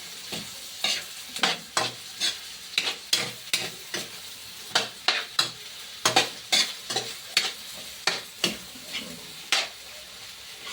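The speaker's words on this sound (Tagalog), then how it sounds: "Halo-haloin ang itlog para mahalo sa sayuti." A spoon stirs egg into sautéed chayote in a sizzling pan, making repeated scraping strokes in an irregular rhythm over a soft, continuous frying hiss, close and fairly clear.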